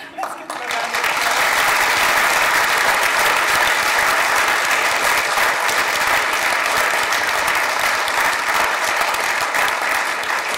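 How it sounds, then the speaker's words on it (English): An audience at a psychology week forum at ANU applauds the panelists, a loud, dense, sustained roar of many hands clapping that holds steady for several seconds. "Let's give them a round of applause."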